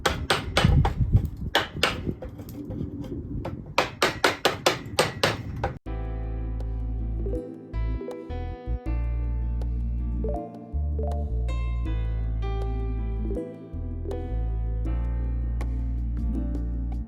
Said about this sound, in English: I can take some of the bigger chunks off with a much sharper chisel